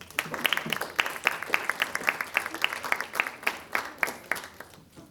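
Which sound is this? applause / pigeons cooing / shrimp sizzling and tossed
applause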